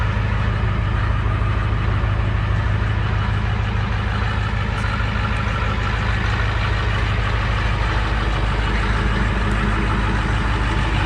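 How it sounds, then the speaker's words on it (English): OBS-era Ford F350 dually pickup with a turbo engine, towing a gooseneck two-car deck-over trailer on the highway: a steady, loud, continuous engine drone and road rumble that stays level throughout, with no talking. "turbo working, rolling down the highway."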